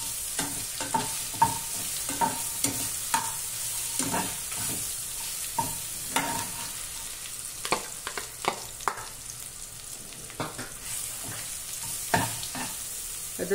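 Garlic and curry leaves fry in a pan for bitter gourd fry, with a steady sizzle. A spoon scrapes and clatters against the pan in irregular close strokes throughout.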